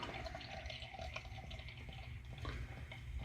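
Oude Kriek Vieille 2014, a cherry beer, is poured into a glass held at a tilt, giving a quiet, close, continuous gurgling trickle of liquid that shifts slightly in tone partway through.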